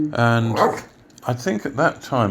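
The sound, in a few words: dog barking in the background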